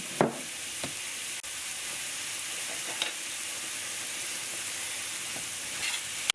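Ground chuck beef and chopped onions fry in a pan with a steady, close sizzle throughout, broken by a few sharp clicks and scrapes of stirring.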